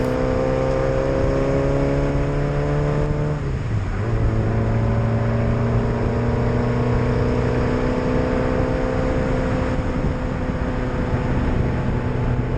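A car on a wet race track is heard from inside, its engine droning loudly with a steady whine that drops sharply around a gear change, then climbs and holds as it accelerates again.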